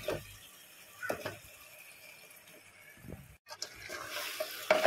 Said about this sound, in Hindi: ये यहाँ पर मैंने ली 1 किलो चिकन, ये अब हम लोग इसमें डालेंगे।